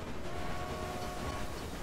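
Train running in the railway management game Railway Empire, a steady continuous rumble with a faint sustained tonal hum, even and unbroken throughout.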